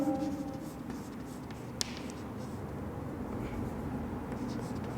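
Marker or chalk scratching out an equation on a board during an electronics lecture, heard as faint, steady scraping strokes under a speaking voice, with a single small tap partway through.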